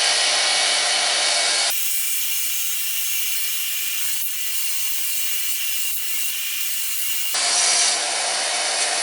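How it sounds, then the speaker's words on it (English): A fine brass wire wheel scrubs light rust off a steel gun part, a steady high whirring grind that starts and stops, with the free-spinning motor heard alone before and after the contact. "the brass wheel does a good job cleaning it up without scratching it to death"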